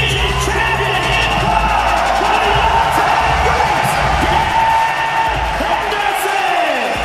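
At a UFC weigh-in in Stockholm, a crowd cheers and whoops for Dan Henderson, a steady, loud roar of many voices with a commentator speaking over it.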